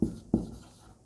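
Two quick, close strokes of writing on a board during a chemistry lesson on heterocyclic compounds, each a short scratchy scrape, the second following about a third of a second after the first.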